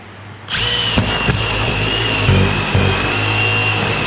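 A power drill bores through steel angle beneath a plywood floor in a bus conversion, with a loud sustained high whine starting abruptly and running steadily, marked by a few bumps and knocks as the bit works.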